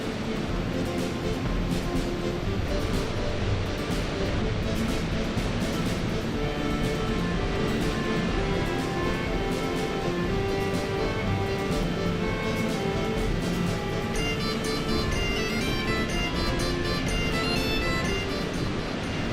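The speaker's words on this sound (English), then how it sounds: "Here is the waterfall." The waterfall on Garvault Burn pours in a constant, loud, dense rush close to the microphone, with possible wind noise mixed in.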